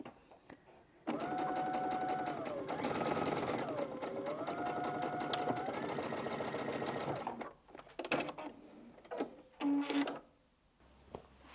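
A sewing machine stitching a pillowcase seam runs steadily and rapidly for about six seconds, its whine shifting pitch as speed changes. It then stops, followed by a few short bursts and clicks as the stitch is reversed and the thread cut.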